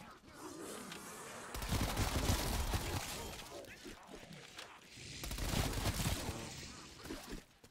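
Bursts of rapid gunfire in Call of Duty: Black Ops Cold War Zombies, map Die Maschine, two loud sustained volleys separated by a quieter stretch, with a busy game soundtrack underneath.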